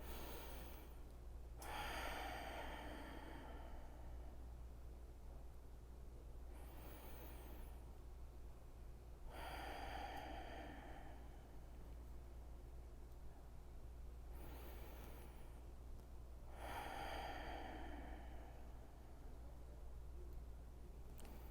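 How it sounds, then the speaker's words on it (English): Slow breathing exercise in a caregivers' nervous-system workshop: a few long, breathy inhale-exhale cycles with drawn-out exhales, heard close and fairly soft against steady low background hum. "do 3 breaths where the exhale is twice as long as the inhale"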